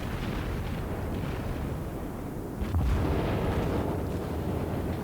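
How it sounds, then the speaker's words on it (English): Warship guns fire during a naval video game battle: a dense, steady wash of rumbling gunfire punctuated by one heavier boom midway, with no voices. "Instead, I'll unload with all my guns."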